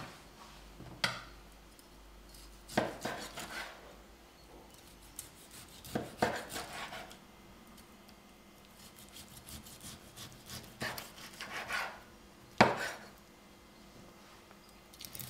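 A knife slicing through a rested duck breast on a board, a few separate soft cutting strokes and taps spaced out over a quiet background, close and fairly faint.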